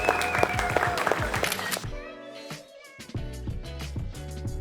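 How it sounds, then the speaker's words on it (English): An audience at a sales mastermind event claps briefly, with a burst of applause mixed with loud music that continues after the clapping fades. "one more round of applause, folks, for earning 100K a month in commissions"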